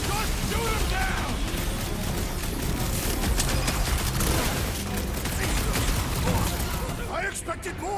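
Gunfire rattles through a fight against a flying enemy in the video game Guardians of the Galaxy, dense bursts and blasts packed together under excited character voices shouting back and forth.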